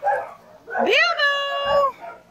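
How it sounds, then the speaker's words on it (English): A dog in a home kitchen lets out one close, drawn-out, high yelping bark that rises and holds for about a second, with a soft thump and quiet room noise around it. "He's a barking in the kitchen."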